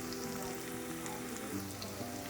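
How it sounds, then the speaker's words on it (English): Cauliflower florets coated in batter fry in hot oil, giving a steady, dense sizzle with fine crackling pops that runs unbroken and fairly close, with no talk. "When the oil is hot, dip the cauliflower florets in the batter and add one by one gently to the oil."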